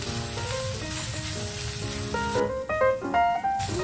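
Already cooked rice fries and is stirred together in a pan for fried rice, giving a continuous sizzle with a steady background hum and several scraping, clattering utensil sounds toward the end; no speech.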